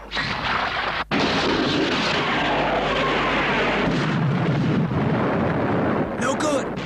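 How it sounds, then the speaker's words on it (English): Laser torpedoes are fired in Star Fleet animation, a dense roaring blast of rumbling explosive noise that continues for several seconds, loud and close, with a brief break near the start. "Let's try laser torpedoes."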